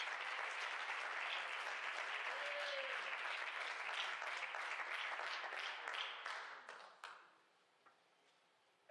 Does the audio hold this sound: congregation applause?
yes